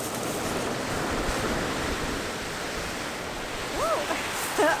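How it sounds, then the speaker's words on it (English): Big ocean waves surge and roar steadily at Djúpalónssandur beach in Iceland, a dense wash of surf mixed with wind noise, with a few faint voices at the end. "Oh, those are some crazy big waves."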